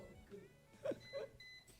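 An XKAH Lite vaporizer gives a short electronic beep, two brief high tones close together in an otherwise quiet moment.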